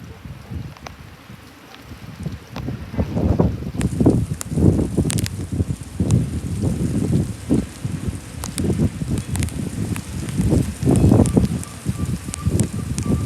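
Thunderstorm wind gusts and spraying rain in Garretson, South Dakota, a steady rough roar swelling and easing in waves, with scattered sharper patters throughout.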